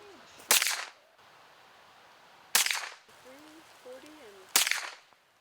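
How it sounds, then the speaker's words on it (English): Three sharp .22 rifle shots from a lever-action Henry crack out during outdoor target shooting, about two seconds apart, each with a short decaying tail, and faint voices murmur in between. "Target shooting with a .22 rifle."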